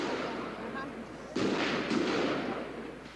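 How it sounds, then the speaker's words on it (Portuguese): Sharp, sudden gunshots heard at a distance during a violent steelworkers' strike clash at the CSN steel plant, Brazil, 1988, a couple of loud bursts standing out against a noisy, rumbling background. "A todo momento, mais tiros."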